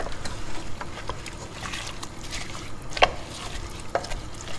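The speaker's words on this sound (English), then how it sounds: "just going to give that a stir" A spoon stirs apples and garlic in a very full cooking pot, giving faint scraping and swishing with a couple of sharp knocks against the pot's side.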